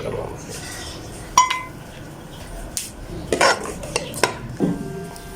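Black pepper chicken korma dished out from a pot onto a plate: scattered spoon clinks and scrapes against metal and crockery, a few sharp taps amid quiet background, with faint talking.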